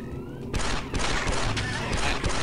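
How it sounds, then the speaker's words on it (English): Sniper fire in the Star Wars Republic Commando game, loud dense crackling gunfire bursts starting abruptly and continuing with overlapping shots and booms throughout. "Watch that sniper fire!"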